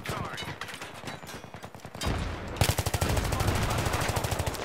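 Dense rapid-fire gunfire with booming blasts fills a Battlefield 3 multiplayer Rush match on PC, the shots rattling in fast even bursts that get louder and sharper partway through.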